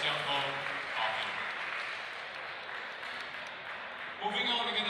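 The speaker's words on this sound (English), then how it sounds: "Round of applause for Elisa" Applause for a competitor at the Singapore National Coffee Championship 2025 finals, a sustained wash of clapping from a live crowd that thins out, with a voice briefly coming through near the end.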